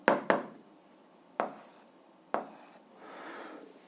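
A pen writing an algebra equation by hand on paper: a few sharp taps and short scratchy strokes, then a softer rasping stretch, close and quiet with no talk.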